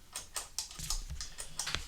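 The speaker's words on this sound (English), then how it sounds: "We're doing a lot of clicking over here." Rapid clicks of a computer keyboard and mouse while reverb is set up for ambient worship pads, a close, fairly quiet run of irregular taps with no voices.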